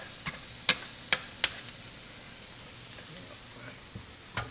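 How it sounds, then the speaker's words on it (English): Grilled onions sizzling on a stainless steel griddle over an induction range, a faint steady hiss broken by a few sharp spatula clicks and scrapes, close by with no talk. "these grilled onions are done. So I'll take them and transfer them off the griddle."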